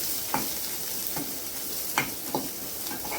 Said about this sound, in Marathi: लसूण पण छान असं क्रिस्पी होईपर्यंत भाजून घ्यायचं आहे